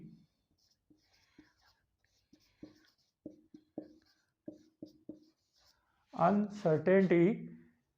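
Marker or chalk strokes writing a physics formula for percentage uncertainty on a board, sounding as a series of short, dry taps and squeaks spaced irregularly, quiet and close, before a voice starts talking at the end.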